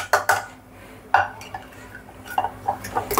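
Reserved lentils are tossed into masala vada batter in a bowl and mixed: a few sharp clinks of a spoon on the vessel, then quieter scraping and stirring, with more clinks toward the end, close and fairly loud, with no talking.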